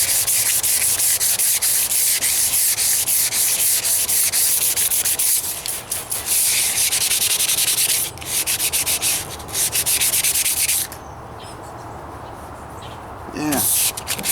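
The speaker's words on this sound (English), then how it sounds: "Then I'm going to take a 500 grit sandpaper and" Wet sanding of a 1998 Toyota Corolla hood by hand with 500 grit sandpaper, a steady loud rasping scrub that runs continuously, briefly pausing and easing off near the end.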